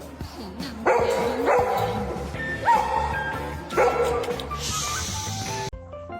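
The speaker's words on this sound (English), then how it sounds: "That bark means, please notice me." Dog barking and yipping up close in a funny home scene, several sharp loud barks in an uneven rhythm with whimpering tones between, ending in a quick whine.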